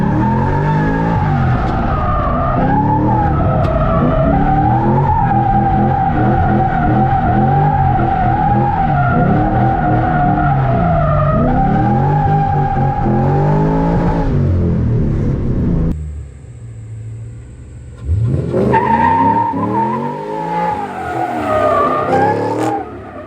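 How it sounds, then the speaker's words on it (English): A Ford Mustang driving hard through grass, its engine roaring loudly and steadily with revs rising and falling, tires scrubbing, then a brief drop before the engine surges again close by. "Golly, he's ripping through the grass"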